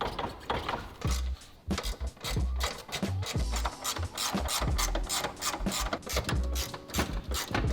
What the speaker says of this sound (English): let's get all these bolts off and we'll start pulling it down